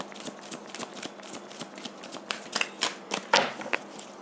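Tarot cards are shuffled close by, with a run of crisp riffling flicks and soft slaps that grows busier and louder toward the end.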